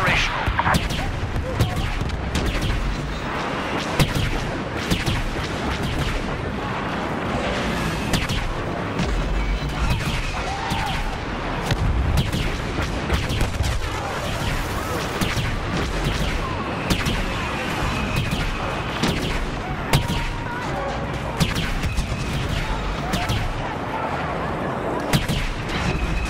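Star Wars Battlefront AT-AT walker combat: dense, continuous barrages of blaster and cannon fire with heavy booms and crashes, loud throughout, with faint voices underneath.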